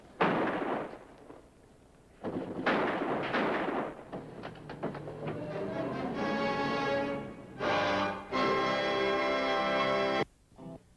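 Gunfire erupts at a service station in a 1955 highway patrol drama: a loud burst of sharp shots, then a sustained wail with pulsing tones, another short blast and ringing, siren-like sound before it cuts off.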